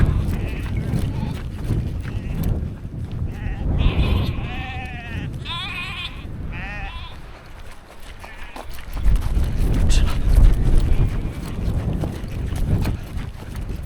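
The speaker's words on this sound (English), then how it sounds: "goats coming up again" Goats bleat in a run of wavering cries midway through, heard over heavy wind buffeting on the microphone along an outdoor trail during a run.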